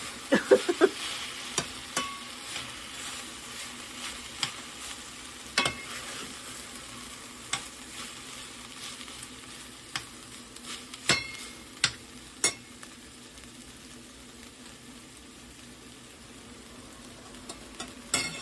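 Stir-fry noodles with salmon tossed in a pan, a steady sizzle beneath sharp clinks and scrapes of the utensil against the pan at irregular intervals, alone and at moderate volume.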